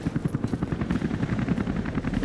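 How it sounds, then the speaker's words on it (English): Helicopters fly in the video game Rise of the Tomb Raider, their rotors thumping in a steady rapid rhythm at moderate loudness, continuous and without talk. "Look at all those helicopters."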